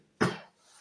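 A single sharp cough from a man, one short loud burst that fades quickly into quiet.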